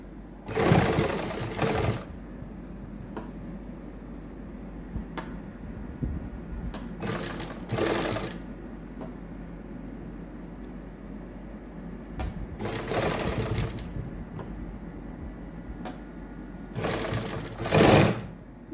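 A sewing machine zigzag-stitches suit fabric in four separate close bursts of rapid whirring and clatter, each lasting one to two seconds, with a low steady hum and quiet handling between runs.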